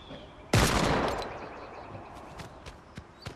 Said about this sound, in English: I'm just gonna shoot randomly.